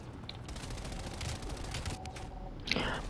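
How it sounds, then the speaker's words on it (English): Sentry gun in Call of Duty Black Ops Cold War multiplayer firing a steady, rapid automatic burst that runs throughout, with a sharper crack near the end. "Got a fucking sentry gun over there"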